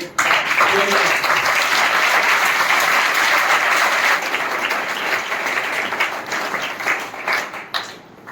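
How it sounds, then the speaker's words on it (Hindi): Students and staff at a school youth parliament event break into loud applause, a full crowd clapping that holds strong, then thins and tapers toward the end. "सबसे पहले तो आप जोरदार तालियां बजाइए"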